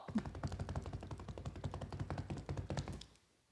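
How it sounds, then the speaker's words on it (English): Drum roll tapped out by hand, a fast even patter of close knocks and thuds running for about three seconds before stopping abruptly. "drum roll,"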